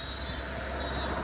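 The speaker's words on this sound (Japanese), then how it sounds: "今日セミめちゃくちゃ鳴いてますね。" Loud summer cicadas keep up a dense, unbroken buzzing drone with no pause, filling the whole stretch without any voices.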